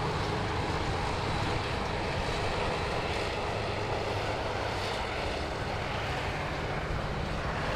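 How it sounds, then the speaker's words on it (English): A Virgin Boeing 737 roars steadily as it arrives on runway 34 left at Sydney Airport, a broad, continuous jet rumble heard from the distance without pause. "It's a Virgin 737 arriving there on runway 34 left."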